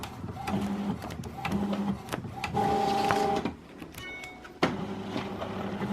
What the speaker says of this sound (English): Guys, look at how much printing I'm doing.